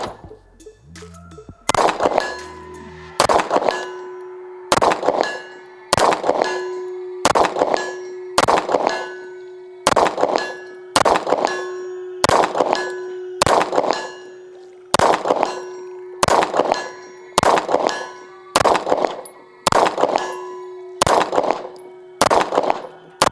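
AAF X Kovert Warfighter shotgun shots ringing a steel target at 100 yards: about sixteen evenly spaced rounds, each a sharp crack followed by a bright metallic clang that rings and decays, loud and outdoors.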